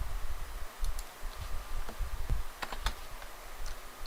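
Quiet computer keyboard clicks as a Ctrl+F5 shortcut is pressed, a few sharp isolated taps over a low steady room hum, no speech.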